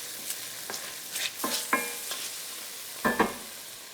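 Bacon frying in a pan, a steady close sizzle broken by several sharp spatters and pops, with a pair of louder crackles near the end.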